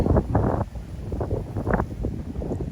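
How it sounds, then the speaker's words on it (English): Strong wind gusts across a backyard garden and buffet the microphone in uneven roaring bursts. "Now that wind is picking up."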